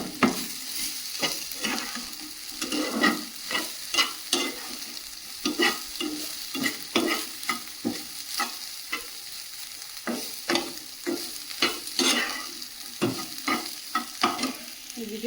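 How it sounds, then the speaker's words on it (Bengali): Potatoes fry with poppy seeds in a pan, sizzling steadily under frequent rhythmic scraping and stirring strokes of a spatula, close and fairly quiet with no talking. "আলু দিয়ে পোস্ত এরকম ভাজা করলে মন খুব পছন্দ করে"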